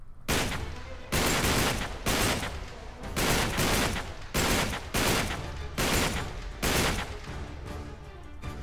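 Gunfire from Uncharted 3: Drake's Deception Remastered, an underground shootout: repeated loud bursts of automatic fire in close succession, each roughly a second long, filling the whole stretch with little pause.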